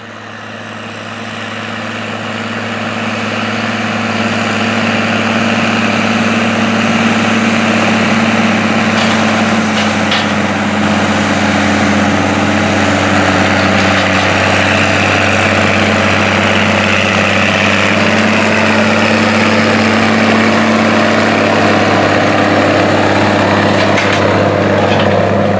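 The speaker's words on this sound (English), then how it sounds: "I have a short clip here to show you of the Puma 1000 and 24-row Kinsey at work out in the field." Steiger Puma 1000 four-wheel-drive tractor pulling a Kinsey 24-row planter across a field, a steady loud low engine drone with a strong rumbling hum held throughout, no talking.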